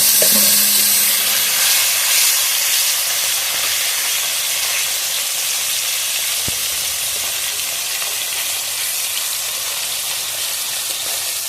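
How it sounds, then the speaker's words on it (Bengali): Several local koi fish dropped together into hot oil, giving a loud, continuous hissing sizzle that stays close and steady throughout, with one brief knock midway and no voices. "এই মাছগুলো সব ভালোভাবে ভেজে নেবো"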